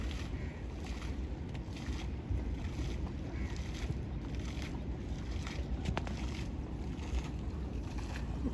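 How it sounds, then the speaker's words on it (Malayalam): A boat engine drones steadily at sea, a low continuous rumble mixed with wind and water wash, no voices heard. "എഞ്ചിൻ നോക്കിയേ"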